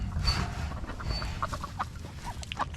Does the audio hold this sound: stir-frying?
no